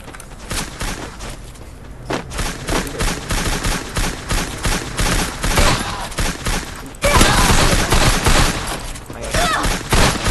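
Gunfire in the video game Free Fire crackles in dense, rapid volleys and bursts throughout, loud and continuous with heavier shooting toward the end and faint talk underneath.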